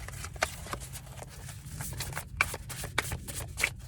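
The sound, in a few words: shuffling tarot cards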